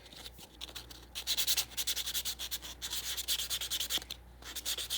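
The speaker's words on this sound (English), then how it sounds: "So we are buffing the nails." A nail buffer rubs quickly back and forth across fingernails, making close, soft rhythmic scratchy strokes in repeated bursts with brief pauses between them.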